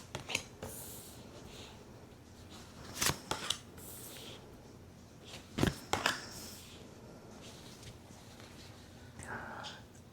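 Tarot cards being handled and shuffled close up: soft papery rustling with a few crisp snaps and flicks in small clusters, quiet overall, over a faint room hush.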